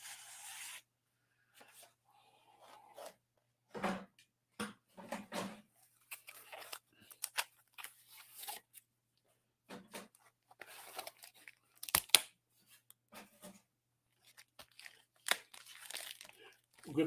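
Cardboard box packaging being opened and pulled apart up close, with intermittent bursts of crinkling, rustling and tearing separated by short pauses.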